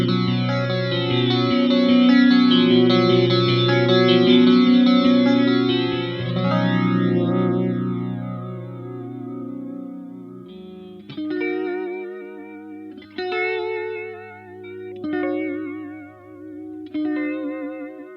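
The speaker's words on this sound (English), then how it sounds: "Now let's check out the Spatial Chorus." Electric guitar through the Spatial Chorus effect of a Laney Lionheart Foundry Super 60 amplifier, sustained strummed chords shimmering and swirling, then sparser picked notes with a wobbling, doubled tone, loud and alone.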